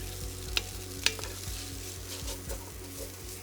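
Finely minced garlic sautéing in a pan for red beans and rice, a quiet continuous sizzle with rhythmic stirring scrapes and two sharp clinks of a utensil, close up and without speech.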